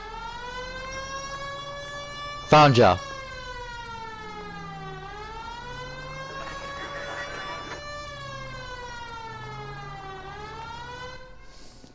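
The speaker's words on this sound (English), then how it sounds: "Hit the siren." Police car siren in the LA Noire video game wails steadily up and down at close range, its rising and falling tone continuing throughout, with a brief burst of noise early on and a short line of speech over it.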